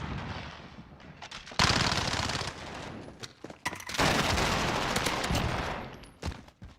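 Rapid automatic gunfire from a first-person shooter match cracks out in two long, loud bursts separated by scattered single shots and quieter pauses, with no talking.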